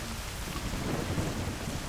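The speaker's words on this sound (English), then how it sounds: "so far it is thunderstorm, doom and gloom" Heavy rain and rumbling thunder from a storm in the video game Kena: Bridge of Spirits, a dense, continuous downpour with a low rolling roar, loud and alone.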